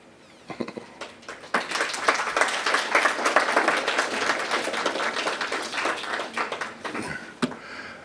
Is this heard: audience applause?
yes